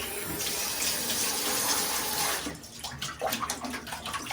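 Water from a tap pours loudly and steadily into a tub being rinsed out, then drops to a quieter, splashier flow with irregular spatters for the last couple of seconds.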